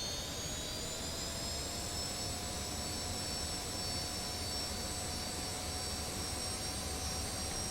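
An F-86F jet engine in the DCS video game spools up to about 75% power against held brakes, a steady loud roar with a rising turbine whine that holds constant throughout, with no talk.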